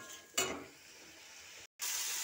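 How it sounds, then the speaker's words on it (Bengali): Hilsa curry masala is stirred and sautéed in a pan with a little water, giving a close sizzle and a scraping stir, cut by a brief silence before the sizzle returns. "হালকা জল দিয়ে আমি কষাতে থাকবো, নাড়াচাড়া করতে থাকবো।"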